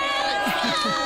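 An excited street crowd parties at night in Los Angeles, making a dense, loud wash of cheering and chatter. A voice talks over it throughout the brief moment.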